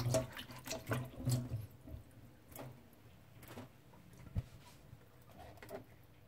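Pears are washed by hand in water, giving faint, intermittent splashes and soft drips that fade into near quiet, heard up close with no voices.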